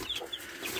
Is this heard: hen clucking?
yes